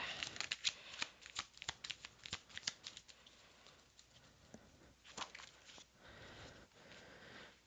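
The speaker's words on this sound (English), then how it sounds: "I'll pull one more card." Tarot cards being shuffled and pulled from a deck, a run of quick papery riffles and flicks in bursts, close and fairly quiet, with no talking.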